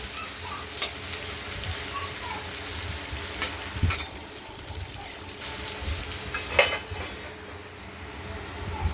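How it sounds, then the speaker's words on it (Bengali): Boiled potatoes for aloo dum sizzle in oil in a wok as they are stirred. A continuous frying hiss runs throughout, with repeated metallic clanks and scrapes from the spatula. "আলুগুলোর ঢাকনাটা কড়াইয়ে তুলে একবার নাড়াচাড়া দিয়ে নিলাম"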